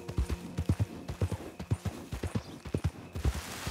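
Horse hooves clip-clop in a steady, fairly close rhythm of repeated paired beats in the Red Dead Redemption 2 video game, with the horse worn out of stamina and no talk over it.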